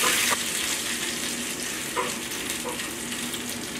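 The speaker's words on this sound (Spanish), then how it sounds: "cuando el aceite ya está bien caliente, echamos los piñones y iremos removiendo. Se tienen que freír, no quemar" Pine nuts fry in hot oil in a small pan, a steady close sizzle and crackle with soft scraping as they are stirred.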